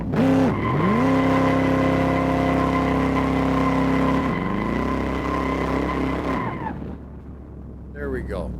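Baldwin Motion Super Vegas car accelerating hard in fourth gear at 70% turbo, a loud steady engine drone that rises, holds, then climbs again before cutting off, with brief voices at the end.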